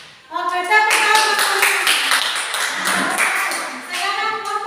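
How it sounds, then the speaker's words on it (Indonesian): A school class claps hands together during a group lesson activity, a short burst of bright, fairly loud clapping with sustained tones beneath it. "Oke, tepuk tangan."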